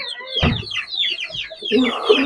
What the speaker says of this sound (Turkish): Şurada damızlık horozumuz var 4 kilo